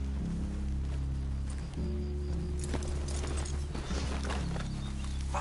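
Horses plod along in Red Dead Redemption 2, a soft steady clip-clop of hooves under a low droning music bed, with faint rustling and the sound of a group riding together before dismounting.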